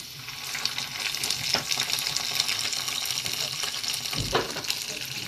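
Butter sizzles in a hot pan while making Egyptian kishk with milk and rice, with a steady close hiss and a few scraping stirs.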